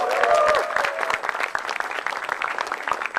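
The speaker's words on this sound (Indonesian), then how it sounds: "Tepuk tangan lagi dong." Studio audience at a televised Indonesian stand-up comedy show applauds, a dense burst of clapping that stays steady and fairly loud, with a few brief tonal sounds near the start.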